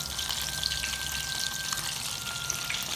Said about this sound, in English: Now we're gonna prepare the fried eggs.